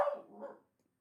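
A single short dog bark, loud and close, fading out quickly into silence indoors.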